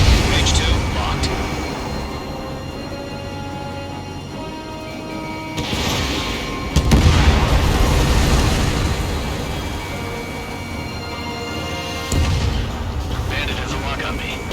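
In Ace Combat 7, with an F-35C Lightning in flight, a missile launches with a whooshing roar and explosions boom over continuous jet engine rumble, with several loud bursts spread across the clip and radio chatter mixed in.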